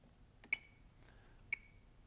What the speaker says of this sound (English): We'll set our metronomes to 60